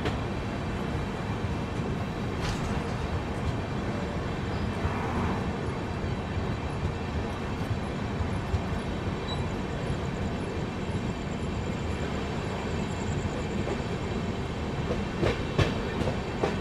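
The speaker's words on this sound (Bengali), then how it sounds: "ট্রেন কিন্তু ছেড়ে দিল দুর্গাপুর, আর পরবর্তী হল্ট আমাদের আসানসোল" Sealdah Rajdhani Express pulling out of Durgapur station, a steady rumble of rolling wheels with clickety-clack and faint squeaks throughout, heard from inside the moving train, no voices.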